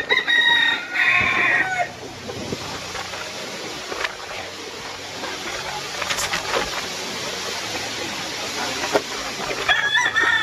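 A rooster crows at the start and again near the end, with hens clucking and scattered outdoor noise in between, in Samar after a typhoon.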